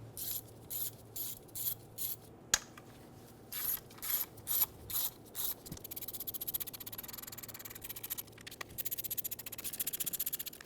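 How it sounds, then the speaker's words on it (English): An 8mm socket ratchet loosens the valve cover bolts on a 2000-2007 Ford Focus. Close, crisp clicking comes in short rhythmic bursts, then turns into a faster continuous run of ratchet clicks. "Using an 8mm socket, go around the valve cover and loosen all of the bolts"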